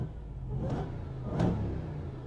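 A 2022 RAM TRX pickup truck engine in sport mode revs up twice in quick succession, rising in pitch each time over a low, steady engine hum, heard from inside the cab.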